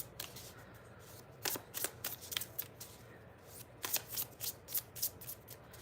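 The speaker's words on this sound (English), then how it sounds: "Let me give my decks a little bit of a shuffle." Tarot card decks being shuffled close up in a quiet room, two bursts of rapid crisp riffling flutters separated by a short pause, with soft handling sounds between.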